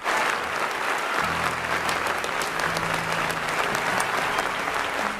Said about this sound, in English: without realizing it, he even applauded while standing